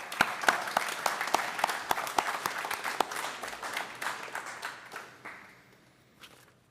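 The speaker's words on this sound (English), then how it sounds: "Let's give him a round of applause." Applause from the audience at a police academy graduation ceremony, sharp claps at first that thin out and fade away over several seconds.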